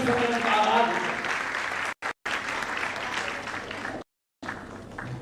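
A hall audience at a Hindi kavi sammelan poetry gathering applauds to welcome a poet. Full, continuous clapping is briefly cut out twice, with a voice faintly present at the start.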